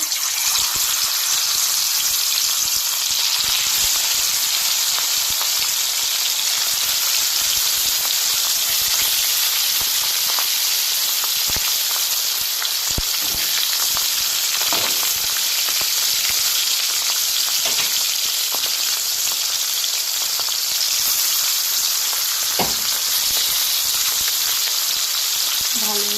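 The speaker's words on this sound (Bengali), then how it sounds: "দেখুন তেল দিয়ে ধোঁয়া বেড়াচ্ছে এবার মাছটা আমি এক এক করে ছেড়ে দেবো" Bhetki fish pieces go into smoking-hot oil and fry with a steady, loud, dense sizzle that holds unbroken throughout, with occasional pops and crackles rising over the hiss.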